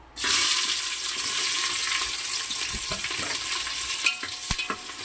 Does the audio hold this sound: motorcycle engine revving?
no